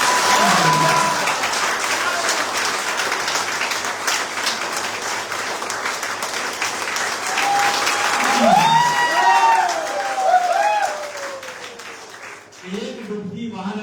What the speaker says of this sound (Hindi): ये तालियां मिलनी थी, क्या आप कर रहे हो? सच में एक बार फिर बजाओ जरा।